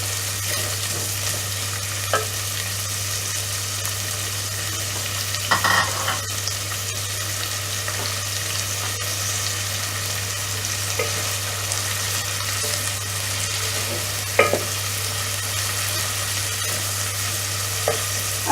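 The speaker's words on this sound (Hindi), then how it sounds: "प्याज को ऑयल में अच्छी तरह से सौते करें।" Onion sautéing in oil for an aloo matar potato and peas curry sizzles in a steady, close hiss, broken by occasional spoon scrapes and stirring knocks; no voices are heard.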